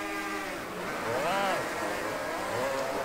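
500cc racing motorcycle engines in the video game MotoGP 20 on the Sepang circuit roar continuously, with pitch rising and falling as several bikes rev, under someone talking.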